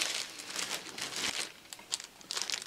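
A plastic bag holding Bäckermeister bakery goods crinkles and rustles close by in quick bursts of crackling with short gaps, as if being handled and opened.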